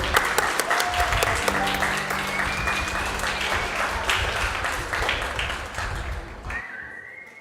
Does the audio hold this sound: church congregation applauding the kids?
yes